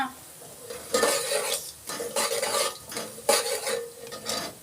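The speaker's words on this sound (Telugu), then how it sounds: "బాగా వేగాలి అవాలు వేగితే బాగుంటుంది" Mustard seeds fry in a hot pan, heard as loud close bursts of crackling sizzle and scraping stirring that come in several waves over a few seconds, with no talking.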